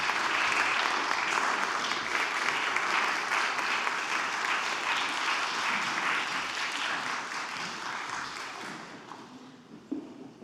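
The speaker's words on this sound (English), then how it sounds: "please give another round of applause to Dr." A lecture audience gives a round of applause after a talk on medical and humanitarian work: dense, sustained clapping from many hands that gradually thins and fades toward the end, with a few final claps.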